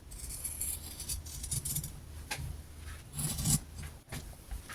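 Scissors cut through lining fabric for a child's silk pattu pavada skirt, giving several close, soft snipping and rasping strokes in an uneven rhythm in a quiet room.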